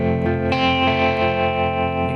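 An electric guitar plays through a Strymon Flint tremolo and reverb pedal on its middle setting. A sustained chord rings with a soft, pulsing wobble and a spacious reverb tail, played alone with no talking.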